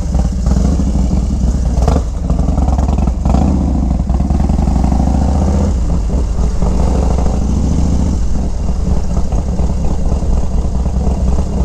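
A 2001 Harley-Davidson FXDXT Dyna Super Glide T-Sport motorcycle engine starting and running loud and close, with rough revving and mechanical clatter throughout, no voices.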